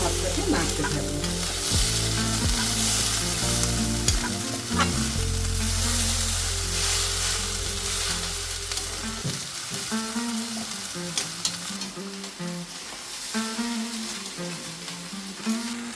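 Sugar and bay leaf fry in hot oil for prawn pulao, a loud continuous close sizzle with crackles and stirring, over a humming background tone that drops away partway through.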